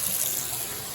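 Water runs from a sink tap after frozen pipes have been thawed, a steady close hiss of flowing water with no pauses.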